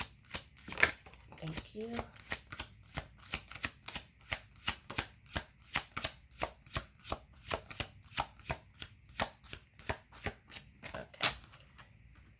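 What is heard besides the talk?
shuffling a deck of tarot cards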